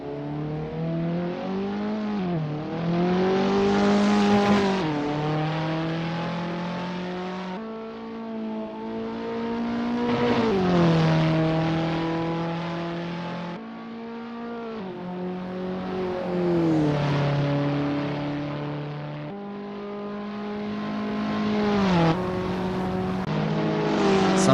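Renault 5 Turbo race cars lapping in Assetto Corsa, the engines revving and shifting through the gears in repeated rising sweeps, loud and sustained with cars passing by.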